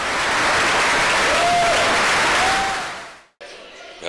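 A theatre audience gives a loud, sustained ovation after a performance of the play "Narodni poslanik". The clapping fades out near the end, and a short stretch of quieter room sound follows.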